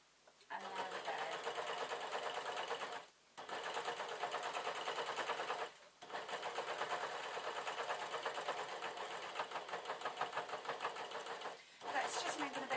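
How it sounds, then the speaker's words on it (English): A sewing machine stitches across a thick seam joining denim and tartan fabric, running in three long loud bursts with short pauses between them, close up and steady. "Let's just make it a bit more noise because I'm just going over the seam here."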